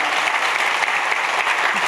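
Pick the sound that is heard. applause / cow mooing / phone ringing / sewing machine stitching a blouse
applause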